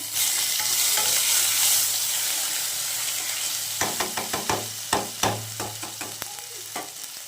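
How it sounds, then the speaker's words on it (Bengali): Black cumin seeds and grated ginger sizzling in hot oil. A bright, steady hiss fades slightly, then a run of sharp spoon knocks and scrapes against the pan comes through the frying, with no talking. "ওই তেলের মধ্যে আমি দেখো কালো জিরে ফোড়ন দিলাম, আর দেবো তোমার একটু আদা"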